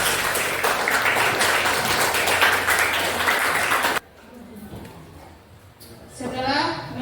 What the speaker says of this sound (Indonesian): Ya, berikan tepuk tangannya.